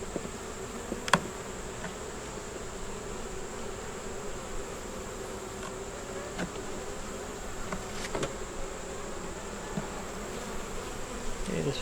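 Honeybees during a hive inspection produce a soft, steady buzzing drone, with occasional nearer bees flying past the microphone and a few faint clicks and handling noises.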